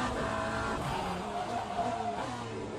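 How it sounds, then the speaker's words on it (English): A race car in the Le Mans Ultimate racing game brakes hard with engine downshifts and tyre squeal, continuous and moderately loud throughout with overlapping engine tones. "Listen out for his braking."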